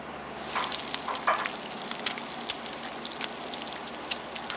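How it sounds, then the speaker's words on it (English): Minced garlic frying in hot sesame oil on a stovetop, a steady crackling sizzle with scattered sharp pops, close and moderately quiet. "I've got 2 tablespoons of sesame oil heating up here on the stove. And then I am going to add half of my minced garlic"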